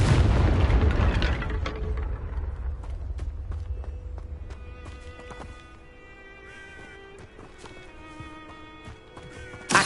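A Confringo fire spell blast in Hogwarts Legacy, a loud booming explosion at the start that rumbles and fades over several seconds, followed by scattered clicks, light impacts and soft game effects.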